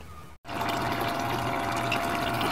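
A running tubewell pump on a farm sends water gushing in a steady, loud rush that starts after a brief silent gap and continues without letup.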